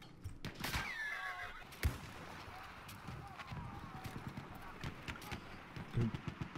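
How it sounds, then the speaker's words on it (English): In the video game Battlefield 1, a horse whinnies near the start while hooves clip-clop steadily throughout, with voices talking over the game sounds. "I'm gonna take this horse."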